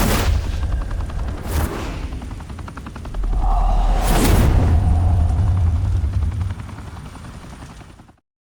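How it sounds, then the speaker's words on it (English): Gunfire in Batman: The Telltale Series, a dense burst of rapid shots over a loud helicopter-like rotor drone, building in intensity before cutting off abruptly. "Open fire!"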